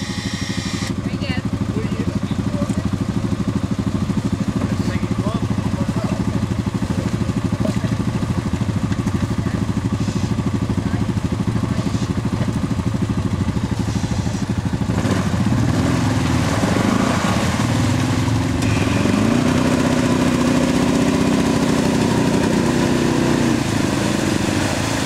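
A new four-wheeler ATV engine drones steadily throughout while stuck in mud, revving harder in the later part, with people talking over the engine noise.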